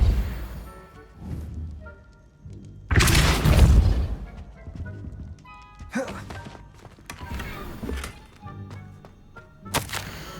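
Spell impacts in Hogwarts Legacy, with a loud broadband blast around the third second and several sharper thuds and crashes after it, set over a steady game soundscape.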